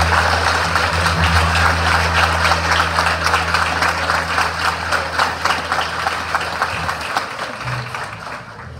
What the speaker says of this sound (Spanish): vamos a darle un fuerte aplauso a este gobierno de